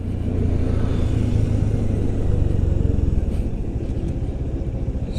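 A Bajaj Dominar 400 motorcycle engine runs steadily and loud at close range, with a deep rumbling idle that rises slightly in roughness toward the end, with no voices.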